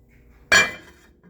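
A metal pot lid is set halfway over a simmering pot, producing one sharp, close clank with a bright metallic ring that fades quickly into near silence.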